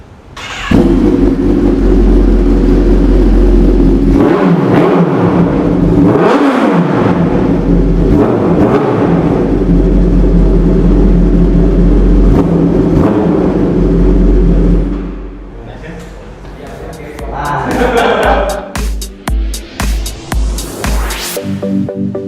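A 1000cc motorcycle engine at a showroom idles loudly, blips through several revs and roars steadily near the mic, then settles lower before a run of short throttle blips toward the end; no talk.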